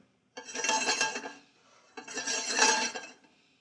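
Two bursts of loud sizzling as shrimp hit smoking hot oil in a pan, each rising sharply, hissing for about a second and then fading.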